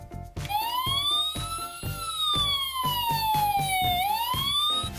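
A toy Barbie ambulance playset's electronic siren, a rising and falling wail over a quick repeating beeping pulse, loud and close with no talk.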